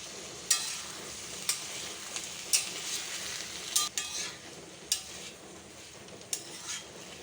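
Fried potatoes and fried freshwater snails tipped into a pan of well-cooked masala for a geri alu dish and stirred, with a steady low sizzle broken by sharp spoon scrapes and clinks against the metal every second or so.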